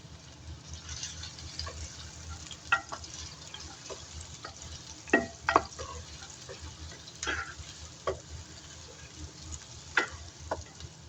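Oil heats in a pot for a chicken stew, giving a faint steady sizzle broken by scattered clicks and scrapes of stirring and utensils, with no voices.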